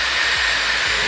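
A Dyson Airwrap hair styler blows steadily, a loud, close, even airy whoosh with a high whine over the short stretch.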